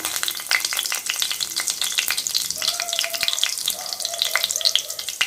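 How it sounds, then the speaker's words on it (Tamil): Curry leaves and fennel seeds sizzle and crackle in hot oil while prawn thokku is being cooked, a dense, steady frying hiss with sharp pops and a few light stirring clatters throughout. "அடுத்து சோம்பு போட்டுக்கலாம். கருவேப்பிலை போடுறேன்."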